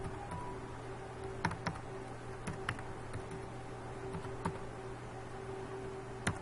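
Sparse keystrokes on a computer keyboard as a dir command is entered at a C drive prompt, a handful of separate clicks spaced irregularly over a steady low hum, close and fairly quiet, no voice.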